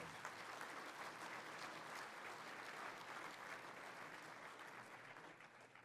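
Steady, dense applause from a conference audience at an annual cities awards evening, rolling on evenly and fading slightly near the end, with no voices.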